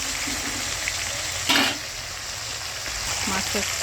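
Bhola fish fries lightly in oil in a pan with a steady, even sizzle throughout, and a brief louder burst of crackling partway through.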